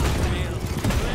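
Sniper rifle shots ring out during a Paladins match, dense and loud amid continuous game noise, with a player's voice partly audible over the brief burst.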